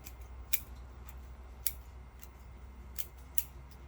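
Scissors trim the roots of a Japanese black pine bonsai during repotting. There are several crisp, separate snips spaced about a second apart, close and clear over a quiet background.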